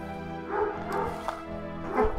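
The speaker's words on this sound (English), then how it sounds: "Gunny, that is enough barking!" A dog named Gunny barks and yips nearby in a room, a few short, fairly faint bursts with some whimpering, heard alone.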